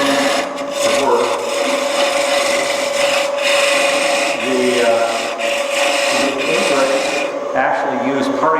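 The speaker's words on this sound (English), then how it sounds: "either with a skew or with a parting tool, you can make some room to work." A wood lathe spins a workpiece while a skew or parting tool cuts into it, giving a continuous close rubbing, rasping scrape with a steady hum underneath and brief shifts as the tool moves.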